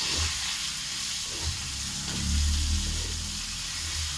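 Turmeric and salt frying with spices for a fish curry, a steady close hiss and sizzle from the pan with low rumbling underneath, continuous without talk.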